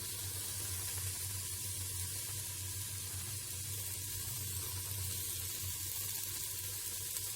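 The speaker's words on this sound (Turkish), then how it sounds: "soteleme işlemine devam ediyorum" A soft, continuous sizzle of chopped red and green peppers sautéing in a pot, fairly quiet and even throughout with a low background hum.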